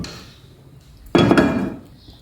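A frying pan is set down on a stove with a single sharp metallic clank, ringing briefly before fading, while ghee is added for an omelette in a home kitchen; quiet room tone surrounds it.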